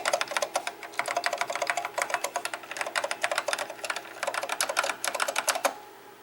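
Rapid, clacky typing on a Heathkit HF-158 computer's mechanical Alps-switch keyboard, a steady stream of crisp keystrokes close by, ending after about six seconds.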